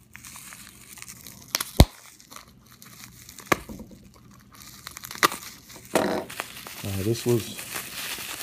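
Crinkling and tearing of tape and plastic wrapping as a taped package of silver Libertad coins is opened, with irregular rustles and sharp crackles nearby, and someone talking briefly near the end.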